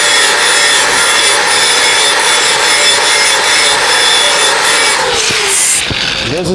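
An angle grinder's flat-held disc works a weld bevel plate for a 2G open root joint. The grinding is loud and continuous and keeps an even rasp before it winds down near the end.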